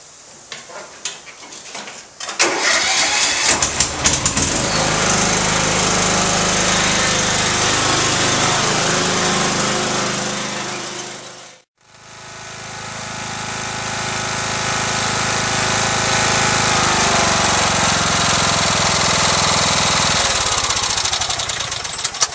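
A Husqvarna riding mower engine starts up and runs loud and steady as it warms up outdoors, with a steady mechanical drone that cuts out briefly near the middle before resuming.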